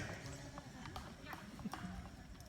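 Jousting horses at a medieval faire make a soft clip-clop of hooves as they ride a slow pass. The hoofbeats are faint and partly buried under crowd chatter and an announcer's voice.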